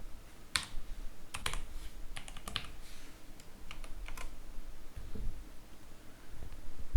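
Keys clatter on a computer keyboard in short, irregular bursts of sharp taps while a new local user name and password are typed in Windows 11, fairly quiet and close, with brief pauses between the bursts and no speech.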